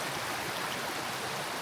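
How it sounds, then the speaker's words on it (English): Stream water babbling under a little bridge, a dense, steady rushing wash heard close and continuous. "The water's just babbling along."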